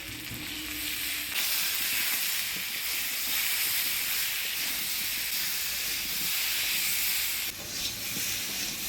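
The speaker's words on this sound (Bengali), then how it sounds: "ফোড়নে দিয়ে দিব শুকনো লঙ্কা, গোটা জিরা" Dried red chillies and whole cumin temper in hot oil, a loud continuous hissing sizzle with steam that dips briefly near the end, stirring underneath, nobody speaking.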